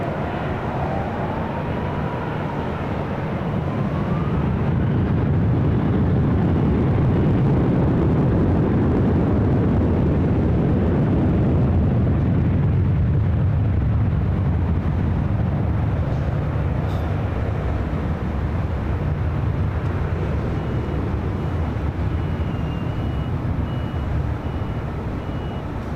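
A jet airliner lands on runway 24 left at LAX, producing a loud, sustained broadband roar that swells and holds close by for nearly half a minute, with no talk over it.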